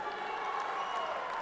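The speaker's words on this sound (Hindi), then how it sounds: "आप सबकी तालियां बहुत ही कम है" Crowd applause at the closing ceremony of the 6th All India Prison Duty Meet, honouring the winning Bihar team of a one-minute drill competition; a dense, steady wash of many hands clapping with no distinct individual claps.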